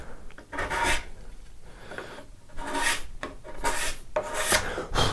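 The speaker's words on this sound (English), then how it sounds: "you can even use a card scraper on ingrain" A card scraper rasps across wood grain in bursts of harsh scraping strokes, several close passes with short pauses between them and no voices.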